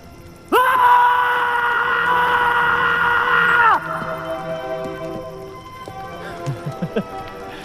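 Loud screaming from people holds strong for about three seconds. Quieter voices and short cries follow.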